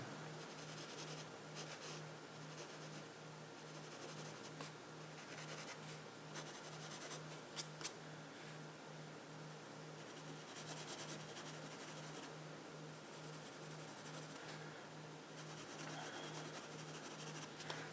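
A pencil sketches a brick texture on paper in steady, soft scratching strokes, with no talking.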